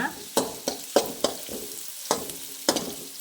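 Onion, homemade garlic paste and green chili fry in a hot pan for a jackfruit manchurian, a constant sizzle punctuated by sharp, rhythmic spatula knocks and scrapes against the pan.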